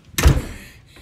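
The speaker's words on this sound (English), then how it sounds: "Also, close the door on your way in." A cartoon door closes with a single solid thunk and a short resonant tail, loud and isolated with no voices.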